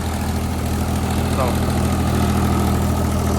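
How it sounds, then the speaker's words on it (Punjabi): A 1993–94 Mahindra 275 DI tractor pulling a 7-foot rotavator runs loud and steady with a deep, continuous rumble and vibration, close by. "ਟਰੈਕਟਰ ਆਰਾਮ ਨਾਲ ਚੱਲ ਰਿਹਾ"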